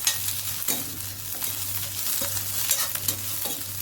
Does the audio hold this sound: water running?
no